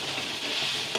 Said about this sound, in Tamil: இப்போ நான் இதோட கொஞ்சம் வெல்லத்தையும் சேர்த்துருக்கேன். இந்த மாதிரி நல்லா மிக்ஸ் பண்ணி விட்டுக்கோங்க